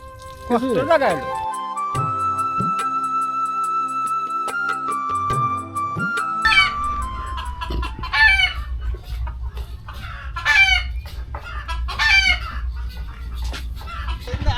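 A rooster being carried on a man's head to a village market on a river char in Sirajganj clucks repeatedly, close and fairly loud, with people talking around it.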